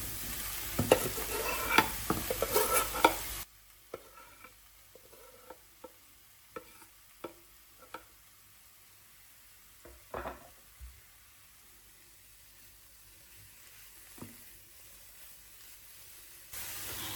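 Chopped chicken breast hits a pan of already-fried mushrooms with a loud sizzle at first, then quieter frying hiss broken by scattered scraping and stirring knocks of a utensil in the pan.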